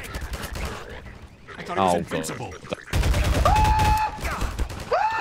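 Rapid automatic gunfire bursts in Half-Life 2 co-op play with the Synergy mod, loud and dense, with a player's voice briefly speaking over the shooting.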